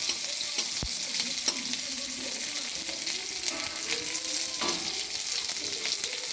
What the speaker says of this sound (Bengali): ডাল আগে 5 ফোড়ন তেজপাতা দিয়ে একটু নেড়ে রেখে দিয়েছি